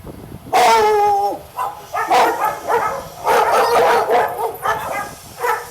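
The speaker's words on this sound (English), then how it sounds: "Now you'll hear the dogs actually start barking." Several dogs barking behind a fence, close and loud, in a string of sharp barks, yips and whiny cries that overlap and keep going with short gaps.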